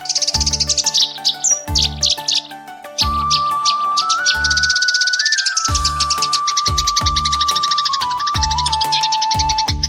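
A female rosefinch calls while foraging on leftover food in East Sikkim, giving rapid repeated chirps and tweets close by, joined by a steady high whistled tone and a busy chorus of other birds and insects.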